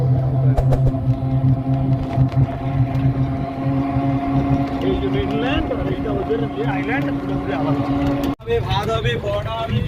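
Trawlers and boats on the river by Namkhana bridge give off a continuous droning engine hum. People talk loudly over it throughout, and the hum cuts out briefly near the end.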